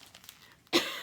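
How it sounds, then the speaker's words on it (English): A person with a lingering cough gives one sharp cough close by, after some faint background sounds. "oh, that cough will not go away"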